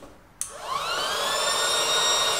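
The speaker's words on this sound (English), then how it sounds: "turn the blower on, like so, and leave it running for about a minute or so" A blower used on a DIY rifle barrel cooling machine starts with a sharp click and spins up into a steady, loud whirring whine that pushes air down the barrel and holds constant afterward.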